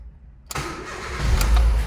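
A car engine cranks and catches after a moment of near silence, then settles into a loud, close, steady idle; the car has a battery that keeps going flat and a battery warning light on the dash.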